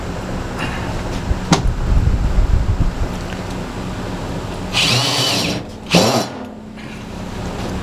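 Power drill driving 1-inch pocket screws into wood, short buzzing bursts of the motor against a breezy background with wind rumble on the microphone.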